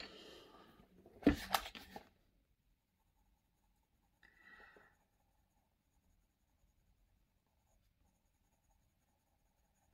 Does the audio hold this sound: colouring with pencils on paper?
yes